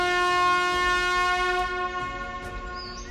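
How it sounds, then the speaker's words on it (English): A ruby red elven whistle is blown in one loud, piercing, sustained tone that holds steady for over a second and then tapers off, with no talk over it. "it's an incredibly loud whistle that they will be able to hear"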